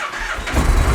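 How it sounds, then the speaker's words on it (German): A motorcycle standing on its main stand cranks and fires up, a short starter whir followed by the engine catching into a loud, rumbling idle, with no talking. "die Maschine auf den Hauptständer stellen, den Motor anmachen und dann den zweiten Gang einlegen"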